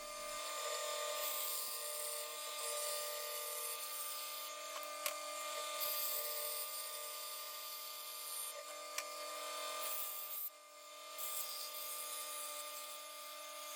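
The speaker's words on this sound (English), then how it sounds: "I like to use this cylinder sanding bit for the impact drill." An impact drill fitted with a cylinder sanding bit sands the contours of wooden coffee table legs, giving a steady, loud, high-pitched whine that runs continuously, with brief catches and a short dip near the end.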